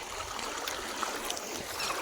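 A river flowing past a village, a faint, steady watery rush with light splashy textures and no talking.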